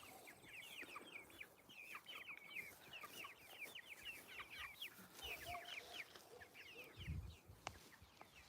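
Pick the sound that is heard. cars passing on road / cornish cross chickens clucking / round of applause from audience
cornish cross chickens clucking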